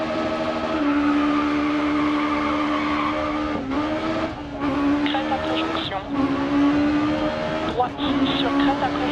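A Peugeot 306 rally car in the Dirt Rally video game, its engine holding a loud steady whine that dips and climbs through gear changes, with tire skids and a voice talking over it.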